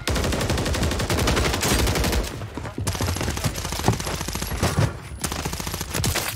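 Rapid, loud automatic gunfire in the video game Call of Duty Warzone, sustained bursts of closely spaced shots with brief pauses, sounding near and continuous for several seconds without talk.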